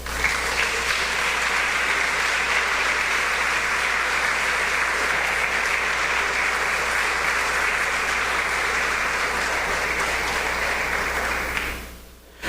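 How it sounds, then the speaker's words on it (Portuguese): A church congregation breaks into sustained applause, dense and steady for about twelve seconds before cutting off abruptly, with no talking over it. "Quantos podem dar um aplauso ao Senhor?"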